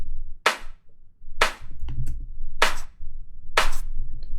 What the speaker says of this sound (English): So this is the layer on top of the clap, has less low end